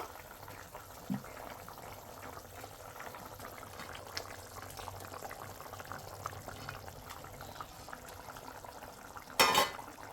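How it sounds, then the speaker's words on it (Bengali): Soybean bora curry bubbles gently on a low flame, a quiet, steady simmer with faint pops and a short louder clatter near the end. "বড়াটা দিয়ে অল্প সময় জাল করে নিব"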